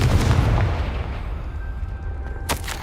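A Confringo fire spell blast from the Hogwarts Legacy video game, a sharp explosive burst near the end over a dense, continuous rumble of game combat noise and music.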